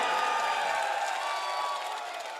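An audience at a Hindi comic poetry event claps with a steady, dense crowd applause that fills the hall and slowly fades, with room murmur mixed in.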